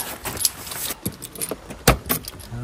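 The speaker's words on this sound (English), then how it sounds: "If I can find my car keys." Car keys for a Citroen Ami jangle at a campsite after a storm, a run of bright metallic clinks and rattles in irregular bursts, close up with one sharper clatter near the end.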